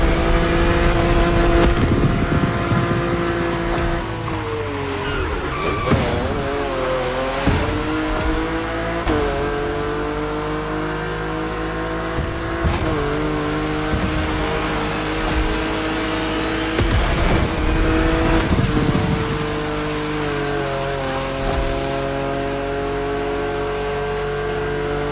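Race cars in The Crew Motorfest rev hard and accelerate through gears, with engines rising and dropping in pitch, repeated gear-change bursts, and occasional tire squeal through turns, loud and continuous with no talk.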